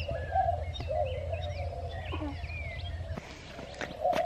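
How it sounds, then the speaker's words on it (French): Several different birds chirp, whistle and call intermittently at a moderate distance in Mexico over a low steady hum. "Il y a plein d'oiseaux différents."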